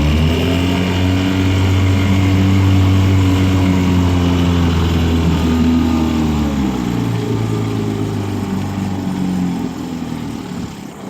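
A 1958 Johnson CD-15 5.5 hp outboard motor runs with a loud, steady, close droning hum whose pitch shifts slightly midway before the sound eases off at the end.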